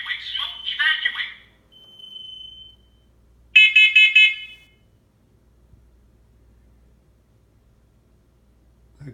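Smoke detector under test, giving two bursts of loud, shrill electronic beeping separated by a brief steady tone, then near silence with faint room hum.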